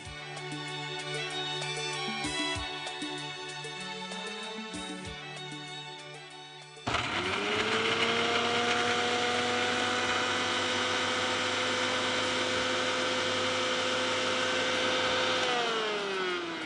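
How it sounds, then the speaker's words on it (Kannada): A mixer grinder whirs through a batch of garlic and herbs, starting up partway through with a loud, steady motor whine that holds evenly until it stops near the end; a quieter, more tonal stretch comes before it. "ಓಕೆ, ನಾನು ಮಿಕ್ಸಿ ಮಾಡ್ಕೊಂಬರ್ಲಾ?"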